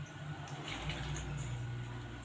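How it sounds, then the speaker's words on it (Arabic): Water is poured into a bowl of yeast and sugar while making whole wheat bread dough, a faint steady trickling stream that runs throughout, with no talking. "هنضيف المية"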